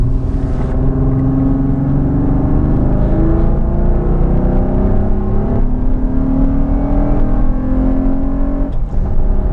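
A third-generation Honda Odyssey minivan's V6 engine pulls hard under acceleration into VTEC, a loud sustained drone whose pitch climbs steadily through the gears with a brief shift dip, heard from inside the cabin.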